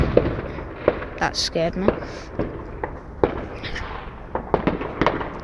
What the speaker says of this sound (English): Oh, look at these fireworks.